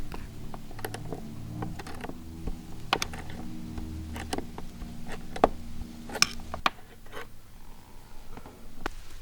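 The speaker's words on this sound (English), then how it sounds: "use a pair of needle nose pliers to hold onto this strut and twist it manually" Needle nose pliers grip and twist a worn fuel filler lid strut on an Aston Martin convertible, giving a run of small close clicks, ticks and metallic creaks over a low steady hum.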